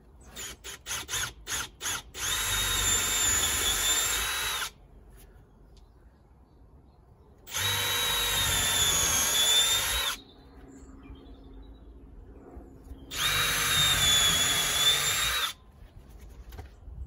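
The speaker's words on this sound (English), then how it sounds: "what I'm going to do is just pilot a little hole" A power drill bores small pilot holes into a wooden fence post, running in three sustained bursts of a few seconds each with quiet pauses between, preceded by a few short trigger blips, close and loud.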